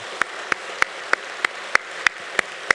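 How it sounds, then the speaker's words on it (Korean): A church congregation claps together in unison at a steady rhythm, about three claps per second, each sharp and evenly spaced over a low murmur of the room, with no talking. "다 같이 박수하시겠습니다."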